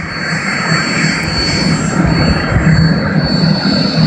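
Turbine whine of an Aérospatiale Lama helicopter spooling up at an airport, a steady, loud, close roar with a high-pitched tone above it, continuous and without voices.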